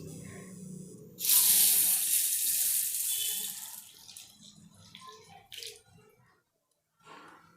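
Tap water gushes loudly into a bowl to soak urad dal for a sweet snack, a strong splashing stream for a few seconds that tapers into softer trickles and drips, with a brief splash near the end.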